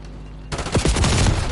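Sniper rifle gunfire in Call of Duty Black Ops 7 multiplayer, a loud burst of shots erupting abruptly after a quiet start and continuing as sharp, closely spaced reports.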